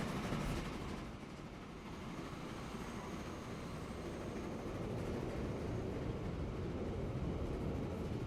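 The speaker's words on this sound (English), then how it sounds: "We're just going to follow this train along and we're going to see what happens." A train running in Transport Fever 2 gives a constant, dense rumble with a rolling rail roar that holds steady throughout.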